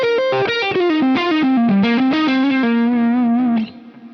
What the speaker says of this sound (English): you may find that that reverb is a bit aggressive